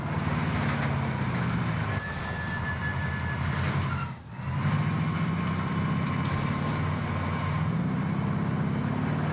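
A vehicle driving in Call of Duty Warzone produces a steady, droning engine hum with a brief dip partway through, heard without talk.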